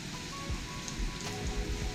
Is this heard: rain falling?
yes